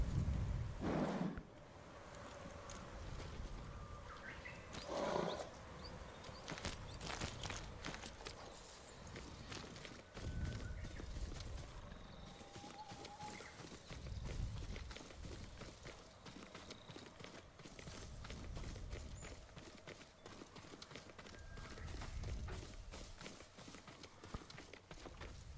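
Hooves of a horse in the video game Ghost of Tsushima clip-clop steadily over a long stretch, moderately loud against a constant ambient wash, with no talking.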